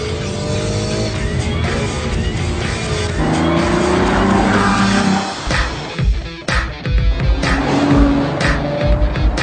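Ferrari FF in sport mode accelerating away, its engine note climbing through gears loudly and close, with a harsh roar and shifting pitch, then rumbling into rougher bursts.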